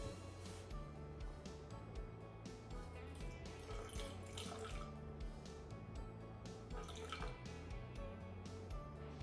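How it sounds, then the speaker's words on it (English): Water poured from a tap or jug into a container of dehydrated sourdough starter to reactivate it, a steady close trickle and splash with light drips running throughout. "we're gonna add water until we hit 30 grams."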